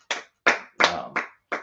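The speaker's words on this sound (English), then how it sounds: "Let's clap it up for the brother" Five sharp, separate hand claps spaced roughly evenly, close and crisp, as a classroom group applauds a student; no talking between them.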